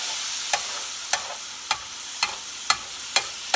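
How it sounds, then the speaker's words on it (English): Garlic and onion saute in a pan with a steady soft sizzle, punctuated by about seven sharp scraping clicks of stirring at a regular, roughly half-second rhythm, close and fairly quiet. "Don't you just love the smell of garlic, especially garlic and onion, sauteing together?"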